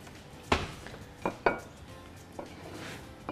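Knife chopping fresh dill and parsley on a board for a salad, a few sharp irregular taps close by, no talking.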